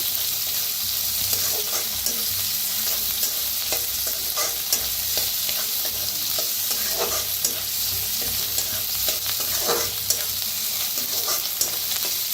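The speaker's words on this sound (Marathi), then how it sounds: "कांदा मी भाजून घेऊया" Onion frying and being stirred in a pan for a Marathi leafy greens dish, a steady close sizzle broken by frequent scraping stir strokes, with no talking.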